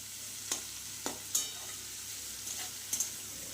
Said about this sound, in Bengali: এটাকে একটু মশলার সাথে ভালো করে একটু কষিয়ে নেবো